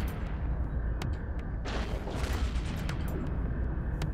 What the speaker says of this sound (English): Ooh, the auto cannons are still hitting.